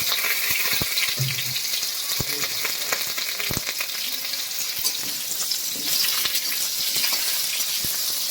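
Pumpkin pieces fry in hot oil seasoned with asafoetida, giving a steady, close sizzle with faint stirring clicks throughout and no voices.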